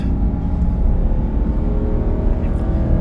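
Steady, loud engine roar of a 2022 Ram 2500 pickup with the 6.4 engine, 3.73 gears and 37-inch tires, accelerating while towing in tow haul mode on a Colorado highway at high altitude, with heavy road and wind noise.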